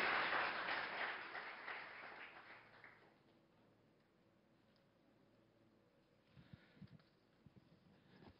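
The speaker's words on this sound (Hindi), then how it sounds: "जोरदार तालियों के साथ अभिनंदन करिए" A live audience gives loud applause to welcome a central cabinet minister to an interview stage, and the clapping fades over about three seconds into quiet room noise with a few faint taps.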